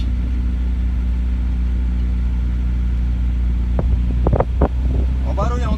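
Loud, rough engine of a square-body VW Voyage idling steadily nearby, with a deep low hum and a few sharp revs and pops near the end, where a voice starts talking.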